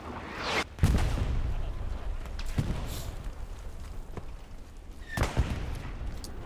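Gunfire in a multiplayer war video game, players shooting from the north at burning positions: sharp shots burst out at intervals, a couple of them loud and near, over a busy battlefield rumble.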